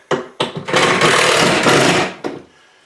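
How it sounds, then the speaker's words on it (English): A screw being tightened: a couple of sharp clicks, then a steady grinding whir lasting about a second and a half, ending with one more click. The sound is close and loud, with no talking. "So I'll just tighten that screw in."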